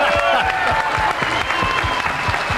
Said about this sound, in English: And as the crowd applauds Efren